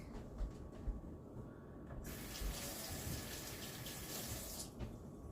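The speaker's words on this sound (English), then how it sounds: "I'm going to wash my hands real quick." Tap water runs into a kitchen sink as hands are washed after chopping an onion, a steady rushing flow that swells louder midway with splashing, then eases slightly at the end; no voices.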